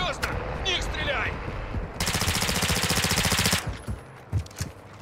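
Automatic weapon fire in the shooter game Warzone DMZ: a loud, rapid unbroken burst lasting about a second and a half, with scattered single shots and brief voices before and after it.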